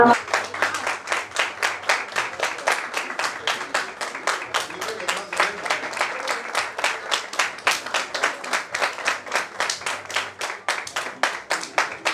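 Schoolgirls in a classroom at Lycée Sainte Marie in Abidjan clap together in a steady, rhythmic beat that runs throughout, with faint talk underneath.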